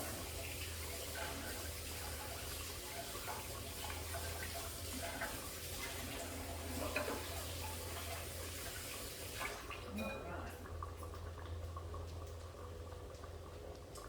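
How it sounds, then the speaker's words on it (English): Hands are washed under a running kitchen tap, a steady hiss and splash of water that continues evenly before the flow changes and fades near the end, quiet and close. "Wash my hands."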